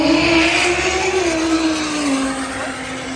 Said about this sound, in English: We're building boost in that V10.